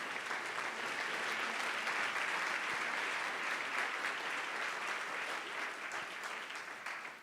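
A church congregation breaks into sustained applause at a Sunday service, a thick, even wash of clapping that holds strong and tapers slightly at the end.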